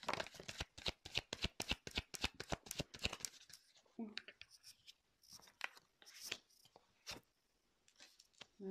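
Tarot cards shuffled by hand, a rapid run of riffling flicks at first, then slower scattered card slaps and slides, close and fairly crisp, with a voice speaking softly over the later part.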